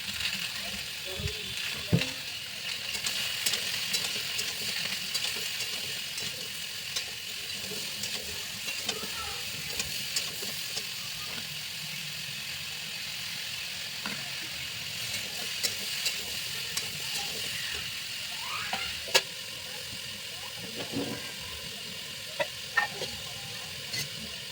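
Vegetable curry frying in refined oil with a five-spice tempering and a little cumin powder, giving a steady, moderate sizzle with occasional stirring clicks throughout, and faint background noise.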